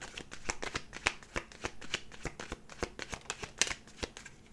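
Tarot cards being shuffled up close, a quick run of crisp riffling clicks and flutters in an irregular rhythm, with no talking.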